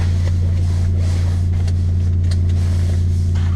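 A 5.7-liter Hemi V8 runs with a deep, steady rumble in cold winter weather, loud and close, holding an even idle for the whole stretch without voices.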